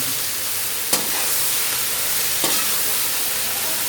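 Vegetable noodles are stirred and tossed in a hot pan, giving a continuous loud sizzle, with two brief utensil scrapes against the pan.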